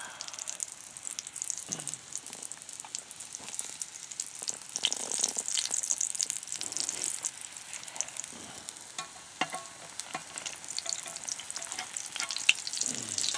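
Steady, quiet sizzling of pancake batter frying in a pan, with occasional soft clicks and scrapes, no voices.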